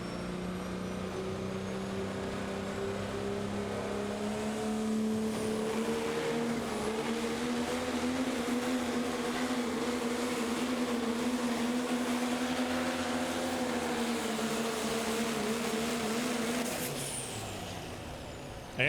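Dodge pro stock diesel pulling truck named Tug Toy, out of Villa Grove, Illinois, making a run at an arena pull in Terre Haute, Indiana: a sustained loud engine drone with a slowly rising, wavering pitch, fading near the end.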